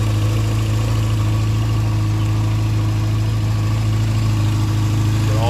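A 1992 Yamaha XJ600 Seca 2 motorcycle with a charging system fault idles steadily, a loud, close, even low engine drone with constant hum and no talking.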